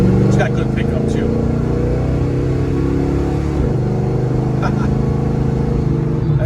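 Engine of a 1971 Oldsmobile Cutlass Supreme cruising steadily at about 60 mph on light throttle, a continuous low droning hum with road noise heard from inside the car, steady and close throughout.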